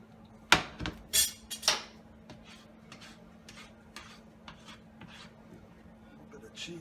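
Shrimp fettuccine being tossed with sauce in a pan, a few sharp scraping clatters near the start followed by softer, irregular rubbing and tapping of utensil against pan.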